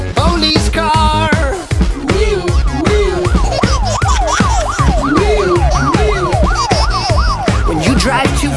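A police car siren sounds in a children's song, fast wailing up-and-down sweeps repeating over bouncy music, loud and upfront.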